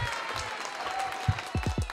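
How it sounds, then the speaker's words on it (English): Clapping on a live sports betting stream sounds as a few sharp, close claps in a quick series near the end, over a steady background with some voices. "It's clapping's a little bit loud today."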